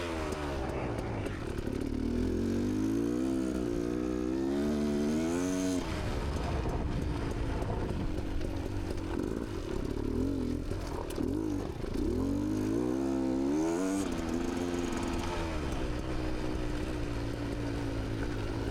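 Beta X-Trainer dirt bike ripping along the New Straitsville trail loop, its engine droning steadily and rising and falling in pitch as it revs through the ride, loud and close throughout.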